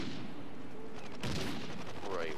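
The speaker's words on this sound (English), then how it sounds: "where is this dude that's shooting?" Video game gunfire in Call of Duty: Ghosts Domination mode: a sharp burst of shots and booms over constant battle noise, loud and close, with a voice speaking over it.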